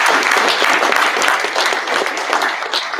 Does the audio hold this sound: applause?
yes